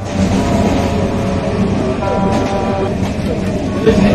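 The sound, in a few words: Naihati–Sealdah local train arriving at the station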